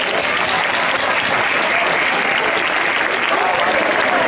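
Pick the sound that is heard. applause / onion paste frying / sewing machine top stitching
applause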